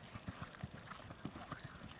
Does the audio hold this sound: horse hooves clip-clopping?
yes